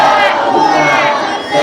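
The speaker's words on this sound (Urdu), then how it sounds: "ایک باواز بلند نعرے صلوات" A crowd at a religious gathering loudly chants a salawat slogan in unison, a brief, powerful, sustained collective shout that fills the space.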